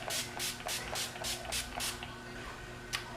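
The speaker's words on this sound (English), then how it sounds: "I'm going to spray some of this Urban Decay All Nighter Makeup Setting Spray all over the whole face" Urban Decay All Nighter makeup setting spray misted over a face: a quick series of about seven short, crisp hissing bursts in steady rhythm, then a pause and one last spritz, close and alone.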